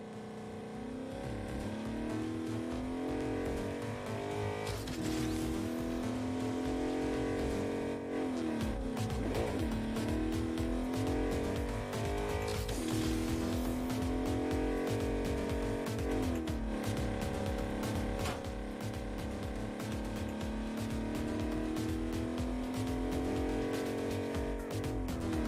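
Car engine revving hard with tire squeal in the video game Agents of Mayhem, a loud continuous roar with rising and falling pitch sweeps layered over game music and effects throughout.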